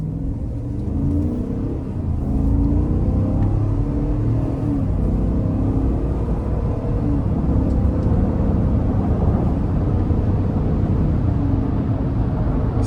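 A 2026 GMC Yukon Denali with a 6.2 V8 accelerates hard, its engine and exhaust droning loud and steady from inside the cabin. The pitch climbs slowly as it builds speed, and nobody talks.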